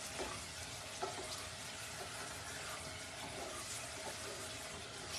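Homemade hotdog chili sizzling in a pan as it is stirred, a steady, fairly quiet hiss and crackle that runs through the whole stretch with faint scraping and no talking.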